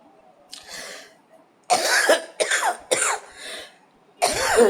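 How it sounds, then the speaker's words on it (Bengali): A woman coughing hard and repeatedly in a kitchen, with a faint hoarse fit first and then several loud, harsh bursts in quick succession, close to the microphone. "কাশি হচ্ছে তোমাদের কি বলবো অসম্ভব কাশি হচ্ছে"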